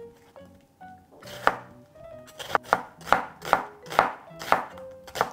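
A knife chops onion on a cutting board while soft tofu stew is being made, with a series of sharp, close, rhythmic thuds that grow quicker, and faint tones in the background.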